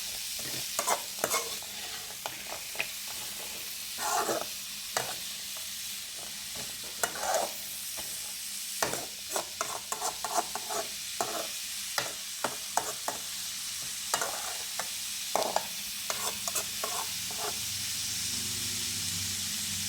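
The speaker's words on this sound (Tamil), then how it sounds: "ஒரு 2 மினிட்ஸ் நல்லா நம்ம அந்த எண்ணெயிலே இதை நல்லா கிளறி விட்டுக்கிட்டே இருக்கலாம்" Carrots and beans sautéing in hot oil for a carrot beans egg poriyal, a steady sizzle and hiss under repeated close scraping and clacking of a spoon stirring the pan, with no talking.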